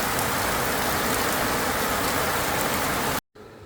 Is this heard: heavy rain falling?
yes